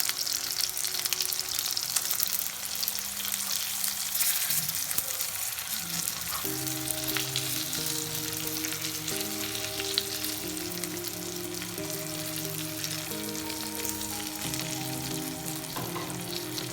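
Steady, loud sizzling and crackling of green chilies frying in hot oil, continuous and close, with some faint tonal hum in the background and no voices.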